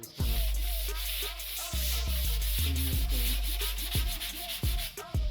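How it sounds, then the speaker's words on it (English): Sanding block rubbing back and forth across a powder-coated side window hatch panel for a WJ Jeep Grand Cherokee, close, repeated scraping strokes with brief pauses between passes. "I sanded this now with this sanding block here"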